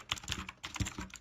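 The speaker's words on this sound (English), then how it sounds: "As you can see, as I'm typing," Typing on a tenkeyless mechanical keyboard, a quick irregular run of crisp clacky keystrokes, close and clear with no talking.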